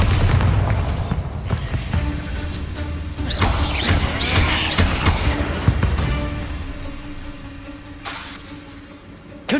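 Bombarda spell blasts in Hogwarts Legacy combat: loud booming explosions with shattering crashes, several bursts in quick succession amid ongoing battle noise.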